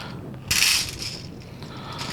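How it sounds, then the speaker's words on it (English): Small screws for an E-flite Carbon-Z Cessna 150 float assembly tumble into a tray with a brief metallic clatter and scrape, followed by faint rattling and rubbing. "we're going to start taking the screws and put them in a tray"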